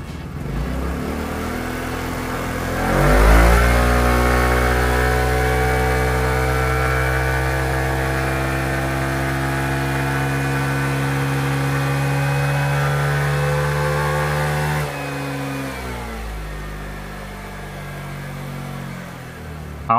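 A Kymco RTS-135 scooter engine on a dyno during a horsepower test climbs hard to high revs and holds a loud, steady drone for about twelve seconds before dropping back toward idle.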